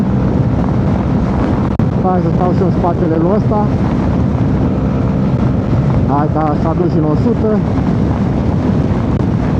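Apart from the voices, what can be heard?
strong headwind while riding motorcycle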